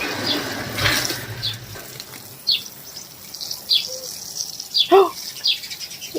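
Water sprays from a hose pipe onto a home courtyard in a brief rushing burst, then fades while birds chirp intermittently nearby.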